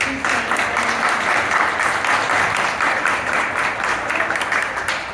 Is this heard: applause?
yes